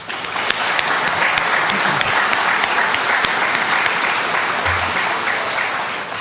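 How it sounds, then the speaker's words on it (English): An audience at the 2023 Arkansas 4-H Awards of Excellence ceremony claps in sustained, even applause that fills the hall from start to finish, with a few faint voices beneath. "Let's give them one more round of applause for their dedication to the Arkansas 4-H program."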